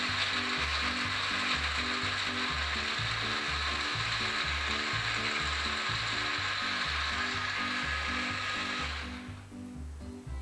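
Running on its puree setting, a kitchen blender gives a loud, near whir over a rapid, evenly pulsing low chop. It keeps going steadily for about nine seconds, then the high whine drops away and the motor winds down.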